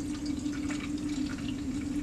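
Film developer liquid is poured into a developer bottle during home film developing, giving a faint, continuous trickling splash that runs steadily for about two seconds.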